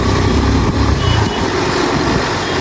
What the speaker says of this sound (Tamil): இந்த பூம்பாறை போகிற ரூட்டில் பயங்கரமான டிராஃபிக் கைஸ்.